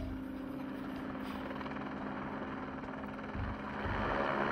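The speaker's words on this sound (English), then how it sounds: "Everything else is being flown up by the helicopter" A helicopter working over a mountainside during a British Columbia search and rescue callout, slinging sleds and debris up one load after another, gives a steady, fairly faint rotor drone with a low rumble that swells toward the end, and no voices.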